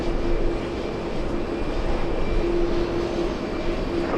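Broadband jet aircraft engine roar at JFK airport in New York, a steady loud continuous rumble with a faint tonal whine, heard alone with no talk.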